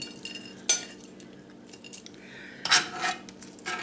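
Spoon scooping cheesy potato casserole out of a baking dish, with two sharp metallic scrapes and clinks against the dish between softer, faint shuffling sounds.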